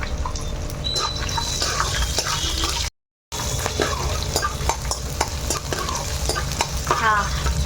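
Green chillies and dry red chillies fry in oil in a pan after the other ingredients have browned, a lively crackling sizzle with frequent spatula scrapes and clatters, close and fairly loud, briefly cut off partway.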